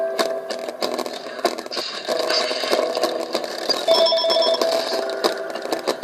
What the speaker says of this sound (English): Sorry, folks, had a phone call.